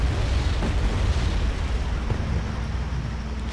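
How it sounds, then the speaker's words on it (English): ATGM anti-tank missiles fired and exploding in the Wargame video game: a continuous rumbling roar of low booms and distant blasts with faint pops, loud and dense, no voices. "You can see up on the hill here, firing those ATGMs down"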